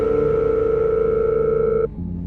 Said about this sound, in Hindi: तभी उसके मोबाइल फोन पर एक कॉल आती है।